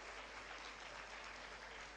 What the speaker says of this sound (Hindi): जोरदार तालियों से स्वागत चलता रहेगा